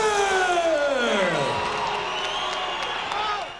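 A crowd at an extreme fighting event cheering and whooping, loud and sustained with rising and falling shouted voices layered together, fading slightly at the end.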